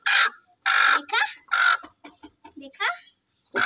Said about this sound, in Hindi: मुर्गी है ना